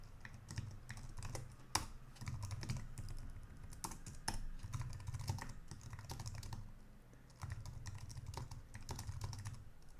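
Steady typing on a computer keyboard while writing RPG code on an IBM i system, with fast, continuous key clicks, a few louder strokes and a brief pause; close and clear, with no talking.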